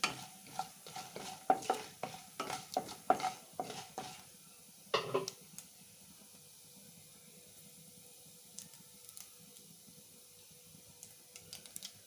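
Onions and green chilies frying in a pan for milk upma: quiet frying with a run of brisk spatula clatters for about five seconds, then a faint low sizzle with an occasional tap, no talking.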